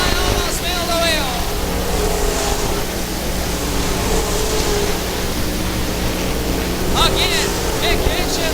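Late model race cars roar past almost side by side on the Crystal Motor Speedway oval, a loud sustained engine wash with rising and falling whines, under a race announcer's steady commentary.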